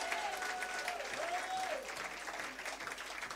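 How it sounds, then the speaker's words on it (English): Steady applause from an audience for a chairman, a dense continuous wash of clapping held at an even level, with a faint voice in the background. "Can we give the chairman a deserved round of applause"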